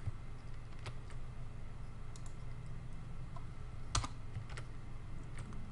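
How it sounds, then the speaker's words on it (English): Typing on a computer keyboard, a quiet run of light key clicks with a few sharper taps, close but faint over a steady low hum, no speech. "Of course, you can just type this right into the editor."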